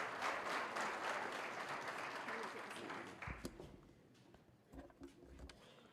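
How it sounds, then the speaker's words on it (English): An audience at an education summit gives a round of applause that begins full and gradually thins out, leaving scattered claps and room noise by the end. "Can we give a round of applause, please"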